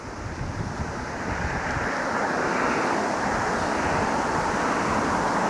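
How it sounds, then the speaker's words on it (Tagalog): Strong wind roars steadily across the mic while someone rides an electric bicycle in Denmark, a dense unbroken rush with no voices. "Nadadala na ako ng hangin."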